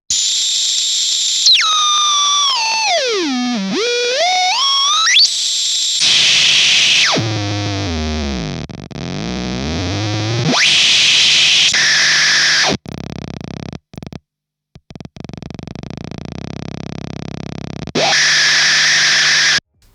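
A Fuzz Factory guitar fuzz pedal self-oscillates, its loud squealing tone sweeping sharply down and back up in pitch, then dropping into a low growling dive and rising again, broken by abrupt cutouts and bursts.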